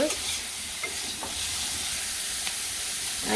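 Turmeric powder sizzles in hot oil in a home kitchen pan, a steady broad frying hiss with a few faint stirring scrapes and small pops throughout, no talking.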